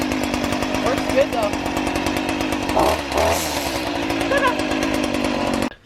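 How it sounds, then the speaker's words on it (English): A small two-stroke weed whacker, bought cheaply secondhand, running at a continuous buzzing drone with a brief dip and rise in revs midway, loud and close throughout before stopping at the end. "this Weed Whacker, that I got for 50 bucks works really well"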